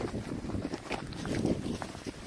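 A blustery gust sweeps through a snowy video game landscape, a broad, rushing roar that holds steady and loud for a couple of seconds with no talking over it.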